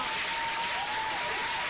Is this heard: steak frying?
no